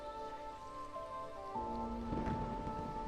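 Steady rain of a thunderstorm in the video game Ori and the Blind Forest, a dense continuous hiss with a low rumble swelling slightly louder in the second half, alongside sustained musical tones, with no voices.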